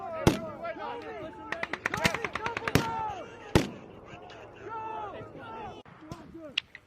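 Military gunfire during a US Marine combat exercise with air support: rapid bursts of sharp shots and cracks in quick clusters, loud and close, with voices shouting among them.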